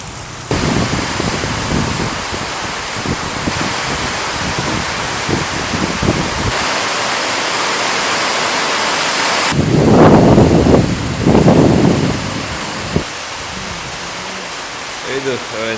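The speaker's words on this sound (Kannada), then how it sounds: "ಇದು ಎಂತ ಮಳೆ ಬರ್ತಾನೆ ಉಂಟು, ಗಾಳಿ ಸಹ ಬರ್ತುಂಟು, ಸಾಮ ಗಾಳಿ ಬರ್ತುಂಟು." Heavy evening rain with strong wind in a Karnataka storm, a loud continuous roaring hiss with surging gusts, and a voice talking over it for part of the time.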